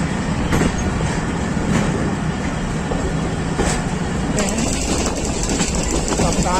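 Thall Express passenger train of Pakistan Railways rolling steadily along the rails, with a continuous loud rumble and clickety-clack of the carriages and occasional brief wheel squeals throughout.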